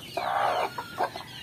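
A frizzle chicken with upturned feathers, a local breed, gives a few short clucks close by, one longer call followed by two quick brief ones.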